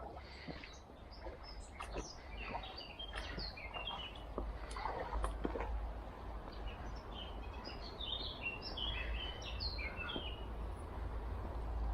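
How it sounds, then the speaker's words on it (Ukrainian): Several small birds chirp and twitter at a distance in the evening, scattered calls overlapping against a low steady rumble of outdoor background noise. "Пташки так гарно співають під вечір."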